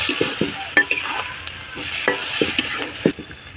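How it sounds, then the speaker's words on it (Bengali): Potatoes and chopped eggplant fry in a pan for a dried-fish chorchori, with spatula scrapes and knocks landing in an irregular rhythm over a moderate, close sizzle. "এবার দিয়ে দেব আলু আর বেগুন কুচি।"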